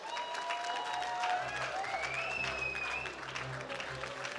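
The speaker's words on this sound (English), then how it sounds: "Give them a round of applause." Audience applause for performers at a local awards night, a soft, distant patter of clapping with a faint whistle rising above it, steady and quiet.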